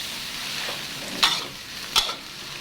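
Rice with chicken is stir-fried in a wok over high heat. A steady sizzle runs throughout, broken by two sharp, close scraping clacks about a second apart as the spatula strikes the pan.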